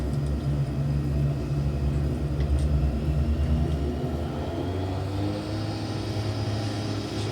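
Simulated aircraft engine at takeoff power in a flight simulator game, a steady loud rumbling drone with a constant low tone that holds throughout, no talking.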